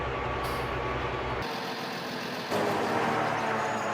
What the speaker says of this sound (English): Gotta shut my tractor off.